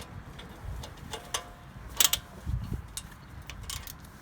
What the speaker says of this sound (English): to remove these two bolts here, you're going to need a 13mm socket. And again, to the left, just loosen those up.